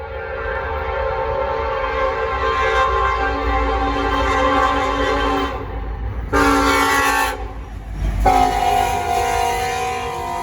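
Norfolk Southern freight train P09 rolls past northbound with a continuous low rumble of cars, while its horn sounds in loud, long blasts, the last two separated by short gaps.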